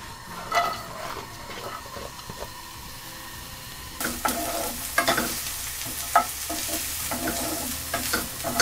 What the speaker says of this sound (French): on va faire revenir l'oignon 1 à 2 minutes